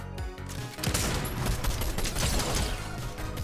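Rapid bursts of gunfire in a shooting video game, with a dense fusillade of loud shots after a brief quieter opening, continuing without a break.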